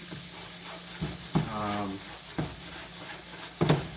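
Steak sizzling in golden brown butter in a pan: a steady, moderate frying hiss runs throughout, with a few soft clicks and a brief voice-like tone partway through.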